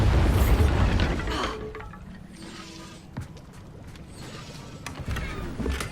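A Bombarda explosion spell in the Hogwarts Legacy video game erupts as a loud blast with rumbling debris. Scattered clatters and small pops follow inside a mine, and the rumble swells again near the end.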